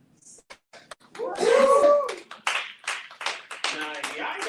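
Sharp hand claps ring out during a talk, alternating with spoken words in a room.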